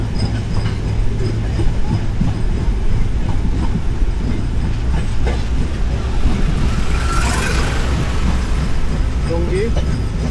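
The Ekota Express passenger train rolls slowly past Tongi station over track under repair, heard from on board as a loud, steady rumble with faint clatter of the wheels.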